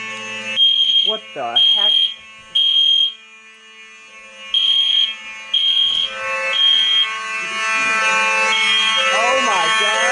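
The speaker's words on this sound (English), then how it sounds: "Oh my god! The fire alarm is going off." A Simplex 2903 fire alarm system sounds during a full-building test, with loud, steady, repeating beeping tones pulsing over a continuous horn, while a person exclaims nearby.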